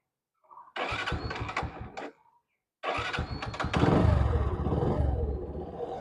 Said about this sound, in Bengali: স্টার্ট দাও মোটরসাইকেলটা